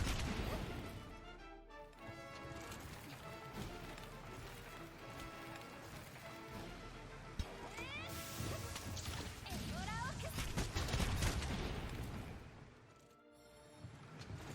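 Bullet Barrage shots from a gunlance in a video game: a dense, busy mix of repeated impacts, whooshes and crashing hits over continuous game music, loud throughout with a brief dip near the end.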